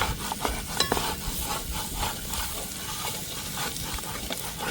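Slit green chillies fry with chicken pieces in a pan for chicken fry piece biryani, a dense close sizzle broken by repeated stirring and scraping strokes.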